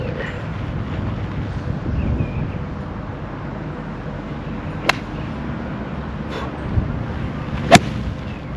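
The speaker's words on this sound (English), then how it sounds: "That's a big left to right wind" Strong wind buffets the microphone at a golf driving range, a steady low rumbling roar with a few sharp cracks of balls being struck cutting through it.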